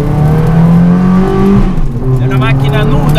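A 2018 Lancia Stratos engine revs hard up close, with a loud, raw, rising and falling tone and strong layered harmonics that climb, dip briefly, then swell again.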